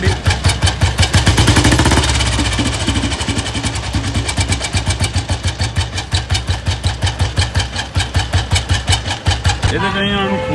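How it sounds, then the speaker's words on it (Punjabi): A Royal Enfield 350 Standard Bullet with a worn oil pump shaft gear idles loudly and close, thumping steadily with a sharp, rattling edge throughout, and a brief voice at the very end. "ਅੱਜ ਇੱਕ ਮੋਟਰਸਾਈਕਲ ਆਇਆ ਜਿਹਦੇ 'ਚ ਇੱਦਾਂ ਦੀ ਆਵਾਜ਼ ਤਿੱਖੀ ਜਿਹੀ ਆਉਣ ਲੱਗ ਪਈ ਹੈ।"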